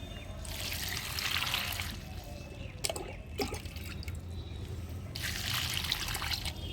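Water pours and trickles into a container packed with banana peels in two broad splashing bursts, with a few brief drips between them, close and steady with no talk.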